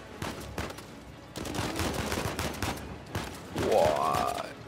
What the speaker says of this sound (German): ich krieg schon wieder richtig Schüsse ab.